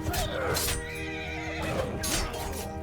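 A horse in the video game Bannerlord neighs twice, loud drawn-out whinnies with faint hoof clatter in a battle setting.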